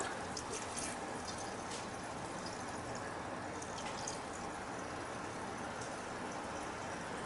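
Water runs and drips steadily from a pipe on a gas water heater being replaced, a faint continuous hiss of flow with no clear break.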